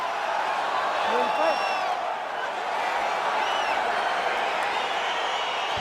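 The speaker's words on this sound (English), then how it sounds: "crowd getting excited as this fight gets underway" A stadium-style crowd in EA Sports UFC 4 roars and cheers steadily as a fight gets underway, a dense continuous wash of voices with a few rising whoops.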